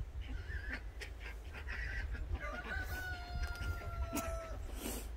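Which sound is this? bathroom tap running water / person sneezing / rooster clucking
rooster clucking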